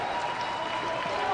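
Arena crowd clapping at a professional basketball game between Mono Vampire and San Miguel Alab Pilipinas, a steady wash of applause under a commentator's voice.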